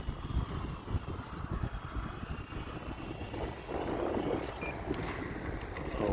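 An E-flite Valiant 1.3m RC model airplane flies at about thirty percent throttle in gusty wind, a thin electric motor drone holding steady and fairly distant, slowly swelling a little louder toward the end.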